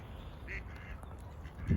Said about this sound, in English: gonna get inundated with ducks now